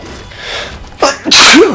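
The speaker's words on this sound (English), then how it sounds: "I have to sneeze now." A sharp breathy intake followed by a single loud, explosive sneeze, close up.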